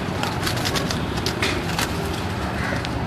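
Rooftop loft of pigeons with a mix of low cooing and scattered wingbeat-like flutters and thumps, steady and fairly close throughout, with no voices.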